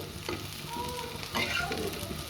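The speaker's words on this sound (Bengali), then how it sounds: "লাল লাল করে ভেজে নিতে হবে" Soybean chunks frying in a pan, browning in oil with a steady close sizzle and brief bursts of spattering and stirring throughout.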